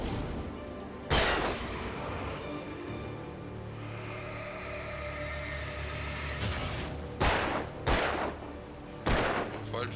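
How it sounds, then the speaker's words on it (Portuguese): Loud gunfire in the video game Alan Wake: a sharp shot, then a dense crackling stretch of combat noise, then a cluster of three or four more heavy shots toward the end. "Falhos os tiros."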